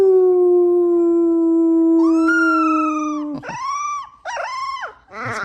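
A husky howls in one long, drawn-out wavering tone, then breaks into shorter rising and falling yodels and whines, loud and close.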